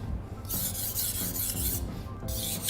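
A knife blade rasps back and forth across a 4000 grit whetstone, a close, steady scraping in repeated strokes with no talking.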